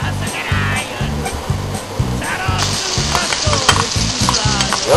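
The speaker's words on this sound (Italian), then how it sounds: "Adesso aggiungiamo le carote." Carrots sizzle loudly in a pan along with onions, garlic and chili, stirred in a steady rhythm of scraping strokes over continuous frying noise, for an Abruzzo-style pasta and beans.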